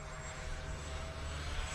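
An RC ducted-fan jet, an FMS 80mm Rafale or E-Flite 90mm Viper, roars with a steady whining rush as it pulls through a loop, the engine noise continuous and fairly close.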